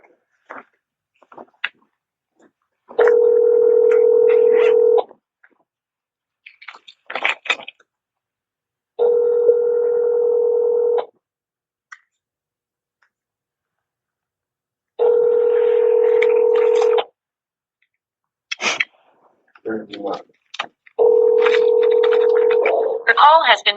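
A phone line on a conference call for a homeowners' association board meeting plays long, even electronic tones about two seconds each, repeated four times with pauses between them. Brief clicks and short bursts of voices fill the gaps.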